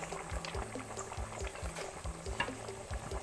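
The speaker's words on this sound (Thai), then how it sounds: "เคี่ยวไปสักพักแล้วเนาะนะคะน้ำก็เป็นแบบนี้" Bamboo shoot curry with free-range chicken simmering in a pot, a quiet, steady bubbling with regular soft low blips of rising bubbles over a hissy background, no voices.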